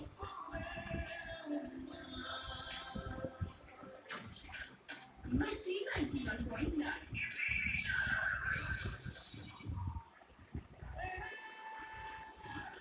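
Wheat flour bondas fry in hot oil over a medium gas flame, a dense, steady bubbling sizzle that rises and falls in intensity throughout, with a person talking over it.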